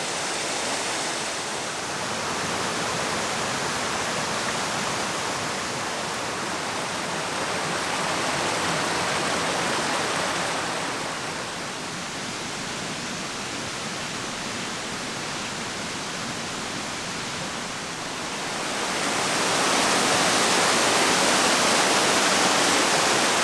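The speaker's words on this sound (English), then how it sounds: "Here's a nice one that's 10 or 12 feet high." A small waterfall, roughly 10 to 12 feet high, pours steadily in scenic rocky woodland, a broad, close rushing wash that swells slightly in places and stays loud throughout.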